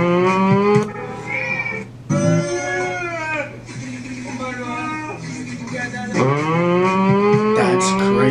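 A voice imitates a motorbike with a sustained, wavering buzzy drone that rises and falls in pitch like revving, loud and continuous for several seconds.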